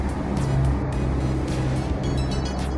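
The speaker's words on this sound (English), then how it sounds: "It's the noise of like jeepneys passing by." Jeepneys rumble past on a busy Manila street, a steady engine drone with passing swells, close by and fairly loud.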